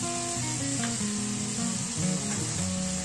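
Potatoes seasoned with salt and chilli powder sizzle steadily in a frying pan as they are stirred, a constant loud hiss of frying with a few soft scraping touches and no voices.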